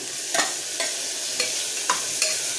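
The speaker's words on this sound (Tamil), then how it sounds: "ரெண்டு தக்காளி போட்டு" Tomatoes sautéing with ginger and garlic in a pan give a steady close sizzle, broken by five spaced scraping strokes of a spatula stirring.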